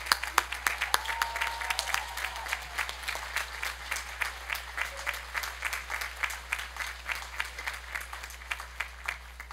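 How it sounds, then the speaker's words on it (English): Sustained applause from the graduating class and guests at a 2022 university commencement ceremony, steady dense clapping throughout with rhythmic peaks, moderately distant and even in level. "Graduates, please rise, turn to the camera, and give Alex a big round of applause"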